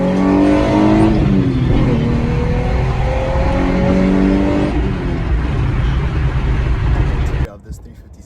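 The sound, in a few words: Nissan 350Z engine running and revving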